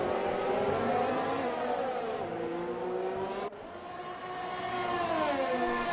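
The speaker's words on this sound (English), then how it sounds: "it sounded like he was maxing out his revs in 6th and 7th" A racing car engine revs hard near its limit in sixth and seventh gear during a Russia round race, a sustained high whine that dips briefly midway, then climbs again.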